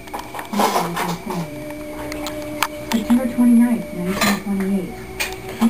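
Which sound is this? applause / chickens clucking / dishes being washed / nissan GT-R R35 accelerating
dishes being washed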